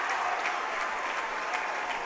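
Steady applause and crowd noise fill a gym at a high school basketball championship game, sustained and dense throughout with no breaks.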